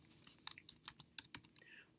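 Keys on a keyboard tapped in a quick, uneven burst of about ten clicks, spelling out the word basketball, close and crisp with no talking.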